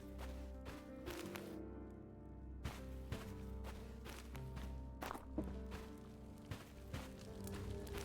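Footsteps in the PC game Eydigard land in a regular walking rhythm. Each step is a crisp, fairly close thud set against a low droning in-game ambience, with one brief pause midway.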